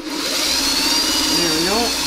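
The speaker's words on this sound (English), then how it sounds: "So we're sewing the blue onto the low volume, the medium blue onto the low volume." A sewing machine stitches medium blue fabric strips onto low-volume strips for strip-pieced quilt rails, giving a steady close motor whir, with a voice speaking over it toward the end.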